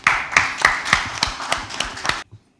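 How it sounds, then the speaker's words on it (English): Several sharp claps in an uneven rhythm from a small audience at an evening panel discussion, close and fairly loud, stopping abruptly after about two seconds. "A round of applause to all of us here, please."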